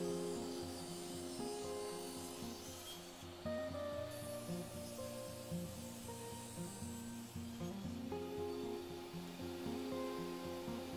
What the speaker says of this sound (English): I'm also ripping the plywood into two thinner pieces and re-gluing that to get a mirrored pattern.